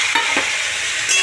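Chicken pieces go into a hot pan for a dry-cooked kosha-style curry, with a couple of quick scraping hits up front and then a loud, close, steady sizzle over the short moment.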